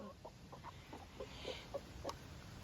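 Chickens cluck softly and intermittently in a series of short calls, faint against a constant background hiss.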